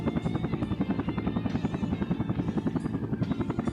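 Helicopter in the Vietnam-era combat flight game Air Conflicts: Vietnam, its rotor chopping in a steady fast pulse over a continuous engine drone, loud and close throughout.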